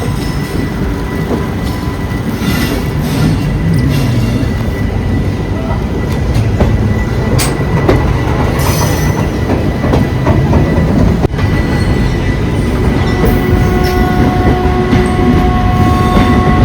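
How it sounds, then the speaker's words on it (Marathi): A passenger train pulling out of Vadodara Junction, with loud continuous rumble of railcars, rhythmic wheel clatter and occasional high squeals, heard from on board with faint background voices. "ट्रेन निघालेली आहे"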